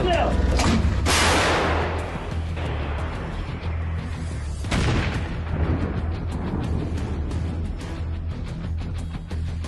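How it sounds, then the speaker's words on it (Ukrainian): A Polish-made Krab 155 mm self-propelled howitzer fires two powerful booming shots a few seconds apart, each followed by a rolling echo over a low idling engine rumble. "Постріл!"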